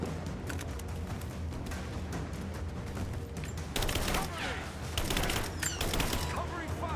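Covering gunfire in Tomb Raider sounds as a continuous crackle of rapid shots under game dialogue, with denser, louder bursts in the second half.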